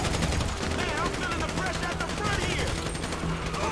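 Rapid automatic gunfire in a Grand Theft Auto V heist shootout, dense crackling bursts running continuously, with shouted voices over the top.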